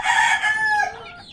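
A Japanese Bantam rooster of the Shabo variety lets out a single close, loud crow lasting just over a second, with no talk over it.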